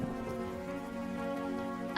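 Rain falls during the monsoon season over a farming village, a steady wash of patter under a faint tonal drone throughout, with a brief louder sound at the end.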